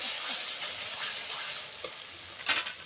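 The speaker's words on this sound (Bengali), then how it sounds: "পোস্ত, কাজু, মগজদানা বাটাটা দিয়ে আমি নেড়ে দেব।" A paste of ground poppy seed, cashew and melon seed is stirred in a hot pan for a jackfruit and prawn curry. A soft hiss runs under a few quick scraping strokes of a spoon, quiet and close, with no voices.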